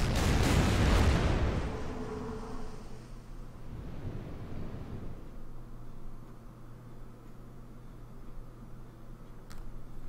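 Naval gunfire in the strategy game Order of Battle: Pacific, a heavy booming blast at the start that rolls off into a long low rumble, followed by a fainter second boom and a steady low hum.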